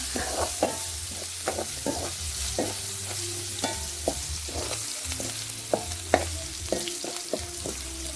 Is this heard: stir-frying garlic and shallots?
yes